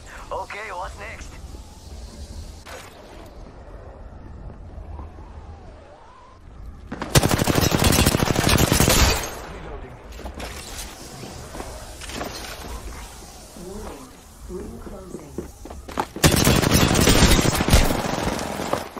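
Automatic gunfire in the battle royale shooter Apex Legends, with two loud sustained bursts and scattered shots over game sounds while players talk throughout.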